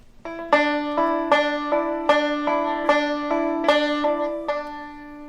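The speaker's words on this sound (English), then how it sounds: "do a series of hammer pull-offs on the 1st string" Bright five-string banjo notes on the first string ring out in quick hammer-on and pull-off pairs, repeating about six times at a steady, moderate pace, clear and close.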